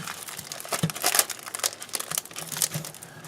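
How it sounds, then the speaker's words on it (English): Plastic packaging of a 3D metal model kit being peeled open, close crinkly tearing and crackling in irregular bursts, quiet and alone. "Peel this little opening open."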